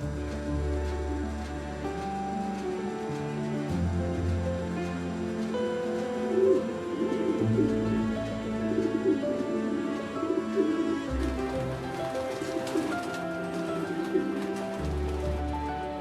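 Racing pigeons cooing inside a pigeon loft in Belgium, a steady layered murmur of low coos from many birds, continuous and close, with occasional rustling.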